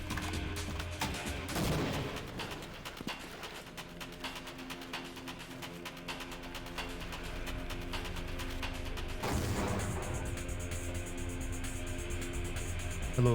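Grenade explosion in the Half-Life RTX mod video game, set amid dense sustained gunfire, with a sharp loud burst near the start and another broadband blast partway through.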